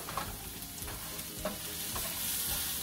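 Vegetables sauteing in a pan with Himalayan salt, a steady close sizzle broken by soft scraping stirs, with no voices over the frying.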